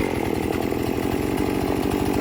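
A chainsaw with a bogging problem, just cleaned with Amsoil Power Foam, runs loud and close in a continuous rough rapid two-stroke buzz, without any voices.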